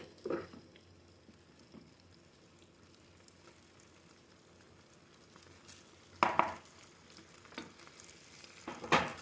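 Rice stirred together with teriyaki pork in a pot, a low crackling sizzle punctuated by a few louder scraping stirs and clanks of the spoon.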